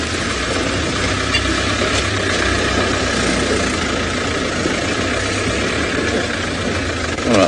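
A safari vehicle's engine idles steadily after a gear is found, a continuous low rumble, close and fairly loud, with no talk over it.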